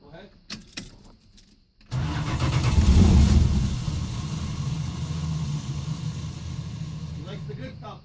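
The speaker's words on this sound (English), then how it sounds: "Gotta love that Chrysler starter." A 1971 Dodge Dart barn find with original paint has its Chrysler starter cranking the engine: after brief jangling and rustling, a loud, sustained grinding crank begins and runs steadily for several seconds.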